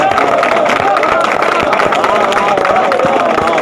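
An audience at a mushaira poetry recital in Mandsaur claps in a steady, dense wash, with crowd noise and a voice talking over it throughout.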